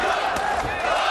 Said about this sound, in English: Crowd into it now.